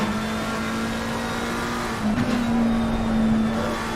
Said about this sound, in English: Through Piratella goes Fez Fox now in the number 86 McLaren.